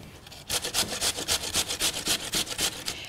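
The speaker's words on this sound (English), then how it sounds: "And then we're going to grate it quite coarsely." A vegetable is grated coarsely for tzatziki in a poolside kitchen, with quick rhythmic rasping strokes, about ten in close succession, loud and near with no talking.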